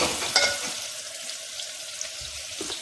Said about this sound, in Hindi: प्याज फ्राई हो चुका था